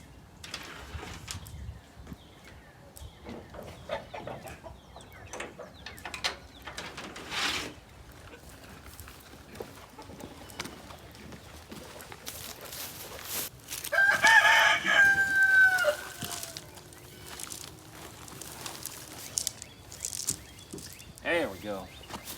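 Chickens and turkeys cluck and call around the listener, with a rooster crowing loudly midway; scattered rustling and faint voices in the background.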